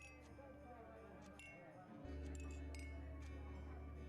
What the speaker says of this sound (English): The clatter of cutlery is all that you can hear